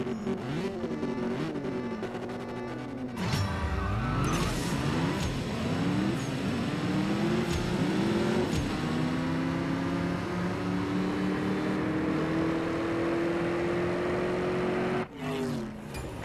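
Tuned car engine in a CSR 2 video game drag race, loud and close, revving hard through repeated rising gear shifts with a deep launch roar, then a long high sustained pull before cutting off near the end.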